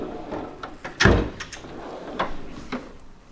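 Tool box drawers being pulled open and pushed shut in a mechanic's workshop, with one loud rattling slide and clunk near the middle plus several lighter metallic clicks and scrapes around it, close by.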